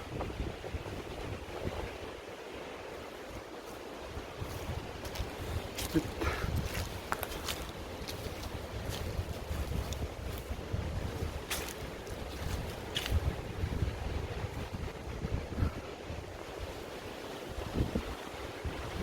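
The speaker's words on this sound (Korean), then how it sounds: "오늘 바람은 많이 불고요 이 바람 부는 거 보세요" Strong wind buffets the microphone at a mountain observatory lookout, a continuous rough roar with gusting surges, fairly faint overall and with no talk.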